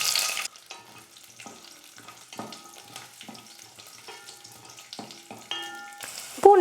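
Fifteen garlic cloves hit hot oil in a pan for araikeerai kuzhambu, giving a crackling sizzle with scattered stirring scrapes and clinks, then a louder burst of frying at the end.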